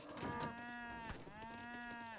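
Cows mooing in Age of Empires III as cattle are deleted, several overlapping low bovine calls in quick succession, clear and close with no talk.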